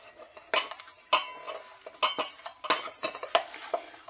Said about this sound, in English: we are going to go ahead and put the cranberries in. And give it a nice stir.